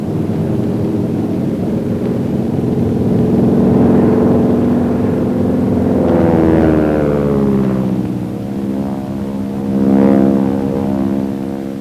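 A North American Aviation T-6 propeller airplane drones steadily through a slow roll, its engine tone rising and shifting in pitch as it maneuvers, loud and sustained with no voices.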